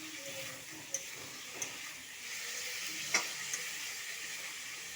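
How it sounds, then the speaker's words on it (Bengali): Fried potatoes cooking with spice paste in a pan for a potato, eggplant and bori curry: a steady, faint, hissing sizzle with a few soft clicks and scrapes of stirring. "এরপরে দিয়ে দেবো ভেজে রাখা আলুটাকে আমি ভালোভাবে কষিয়ে নেব।"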